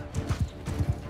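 Horse hooves clip-clop in a steady trotting rhythm in Mount & Blade II: Bannerlord, several close thuds repeating over a low game ambience.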